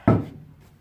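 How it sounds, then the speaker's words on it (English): A self-closing door swings shut with one sharp knock, close and fairly loud, then a short resonant ring fades away into quiet room noise. "it's a self-closing door"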